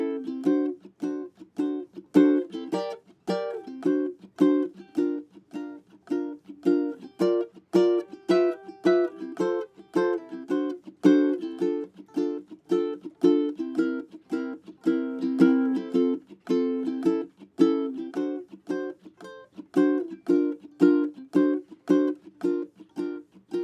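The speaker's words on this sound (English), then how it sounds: "I'm going to play the chords with the muted swing strum technique" Muted guitar chords are strummed in a steady swinging rhythm, short percussive chops repeating throughout with a lyrical chord progression and no talking.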